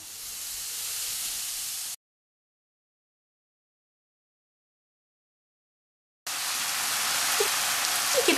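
Meat hisses steadily in a strongly preheated frying pan, a close, even sizzle that cuts out completely for about four seconds midway before returning slightly louder.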